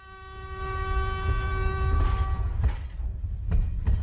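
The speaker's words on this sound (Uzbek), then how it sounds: "Karan, poyezd ovozi kelyapti." A train approaches on railway tracks, its steady horn sounding over a swelling low rumble, with rattling clacks of the wheels growing louder toward the end.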